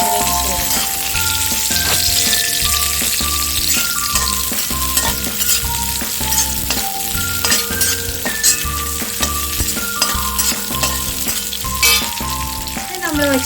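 Sesame seeds fry in a pan while a snack of flattened rice and ripe banana is being made. A loud, lively sizzle comes with rhythmic scraping and stirring throughout.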